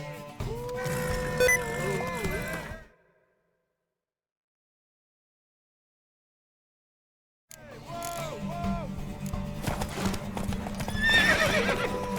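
Horse hooves and whinnying in the video game The Witcher III: Wild Hunt, bursts of clip-clop and neighing with game music, broken by a stretch of complete silence before the hoofbeats and sounds return.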